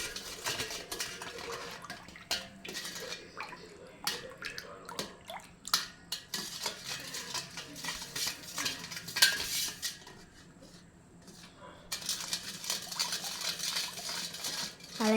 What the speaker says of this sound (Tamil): நல்லாவே கிண்டிக்கலாம்